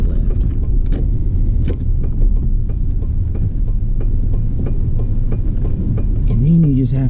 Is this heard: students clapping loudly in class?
no